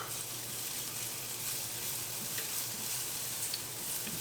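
Garlic sizzles in a touch of oil in a pan on the heat while a shrimp and spinach cream sauce is started, a steady, even hiss that carries through without a break and with no talk.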